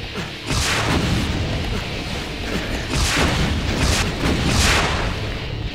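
Dense, continuous rumbling blasts from rocket explosions in the video game Brutal Doom, loud and overlapping in repeated waves with no clear gaps.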